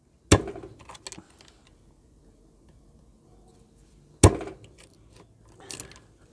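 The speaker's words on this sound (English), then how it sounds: "just jam the blade in, batten through it" Two sharp strikes about four seconds apart, each followed by woody cracking, as a knife blade is batoned through a piece of fatwood to split it; close and fairly quiet, with no talk.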